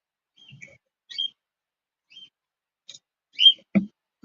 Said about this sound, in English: That's a different sound. Bird call.